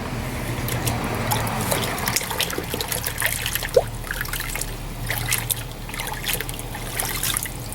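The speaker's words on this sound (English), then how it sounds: "all of these I'm going to have to dunk in clean water" Shibori-dyed fabric is dunked and swished in a basin of clean water, giving soft trickles, drips and sloshes with one sharper splash midway.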